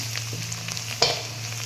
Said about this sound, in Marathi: तर आता हे छान खरपूस असं आपण तळून घेतोय कांद्याची पात आणि कोथिंबीर छान कुरकुरीत झालेली आहे